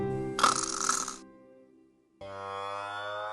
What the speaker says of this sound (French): C'est le bruit d'un ronflement